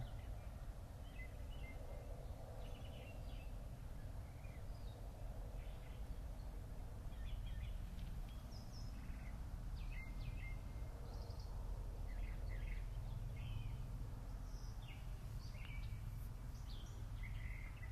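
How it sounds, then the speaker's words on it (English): Birds on a spring day in open countryside with green trees chirp and call in scattered short bursts, small and a little distant, over a constant low outdoor hum. "The birds are definitely chatty."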